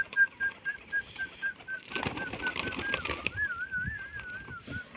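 Soft pigeon coos and bird calls with a thin whistling tone running through, plus a burst of scuffling and flapping noise midway.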